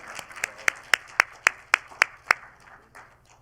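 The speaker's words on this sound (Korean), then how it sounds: "여러분 박수 청해 주십시오." At an anniversary ceremony of a women journalists' association, the audience claps in crisp, evenly spaced beats, about nine sharp loud hits in a row, before the sound thins into looser, softer applause.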